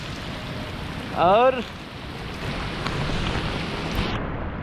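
Heavy monsoon rain falls steadily on the Kali river around kayakers, a broad, even wash of noise, with a brief voice cutting in near the start.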